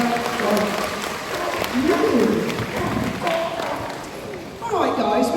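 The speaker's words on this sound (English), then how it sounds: "But give Roger a big round of applause" An audience at a sea lion display at Knowsley Safari Park claps in a round of applause, with voices and some sliding tonal calls sounding over the clapping.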